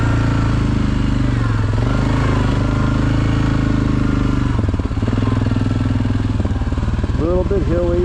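An off-road motorcycle rides forest trails near Higgins Lake in Michigan, its engine droning steadily at a mid pitch and close to the microphone, with shifting revs and a few rising whines near the end.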